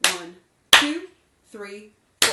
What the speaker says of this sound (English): So that if we were clapping, it sounds like this.